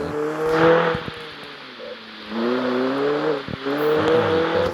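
Car engine in the CarX Street racing game revs and drops through gear changes, with steady harmonic engine tones rising, dipping around a shift near the middle, then climbing again, loud and close with no voices.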